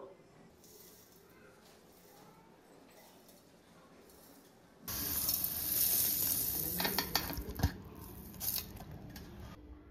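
Whole spices dry roasted for chicken pickle masala: they sizzle and rattle in a hot pan as they are stirred, loud and close, after a few seconds of quiet room tone.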